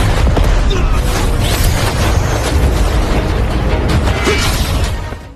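A huge explosion in an animated martial-fantasy battle, with a dense sustained roar of booms, crackling bursts and rumbling debris that stays loud throughout and fades at the end.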